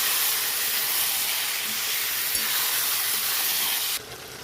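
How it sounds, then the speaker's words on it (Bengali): Marinated chicken stirred and fried in a pan for Bengali chicken kosha, giving a steady loud sizzling hiss that runs throughout and drops off sharply near the end. "যেটা ম্যারিনেট করে রেখেছিলাম চিকেনটা, সেটা দিয়ে দেবো। এবার এখানে আস্তে আস্তে নেড়ে চেড়ে কষে নেবো।"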